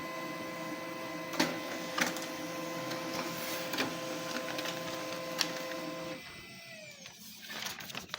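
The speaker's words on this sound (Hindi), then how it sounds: "So now let's see the printer in action." An HP MFP 136nw laser printer runs a page, a steady close mechanical whir with a few sharp clicks and clunks, then winding down into quieter rattling at the end.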